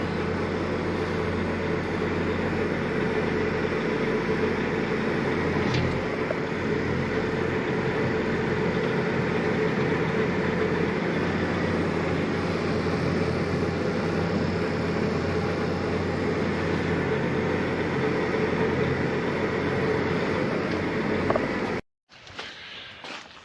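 A farm tractor's engine runs steadily at close range as it is moved out of a barn for servicing, a continuous low rumble that holds for about twenty seconds before cutting off abruptly.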